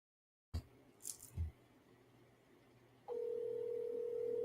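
A telephone call being placed: a few short dialling bursts and clicks, then a steady, loud dial tone holds alone until the end.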